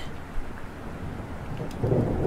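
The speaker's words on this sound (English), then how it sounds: "Outside, the rain seems to only intensify. Lightning flashes fleetingly somewhere, white and piercing, and the sky rumbles." Thunder rumbles low and steady over a constant hiss of heavy rain in the video game The Letter, swelling a little louder toward the end, with no voices.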